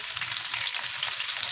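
Finely chopped onions hit hot oil already holding garlic and ginger, giving a steady, close, broadband sizzle and crackle that holds without pause; no voices.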